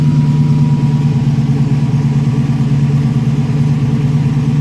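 A TVR Chimaera engine idles at around 1050 rpm with a steady, low, even rumble close to the car, unbroken and without talk.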